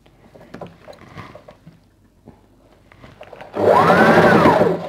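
Electric sewing machine stitching a churidar runs in a loud, steady whir for the last second and a half, starting abruptly after quieter handling and rustling of fabric.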